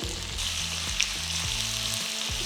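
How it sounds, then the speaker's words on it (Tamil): Hot oil sizzles and crackles steadily as mustard seeds and onions fry, a dense continuous hiss with small pops, close up. "இப்போ பார்த்தீங்கன்னா கடுகு லேசாக பொறிக்க ஆரம்பிச்சிருச்சு"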